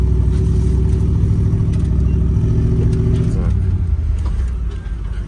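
A car engine runs with a loud, steady low drone close by, then its pitch and tone shift partway through as the engine revs and settles.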